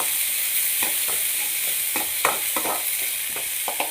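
Onions frying in a pan with mustard seeds, a steady bright sizzle throughout, broken by irregular scraping knocks of a spoon being stirred through them, close and without any voices.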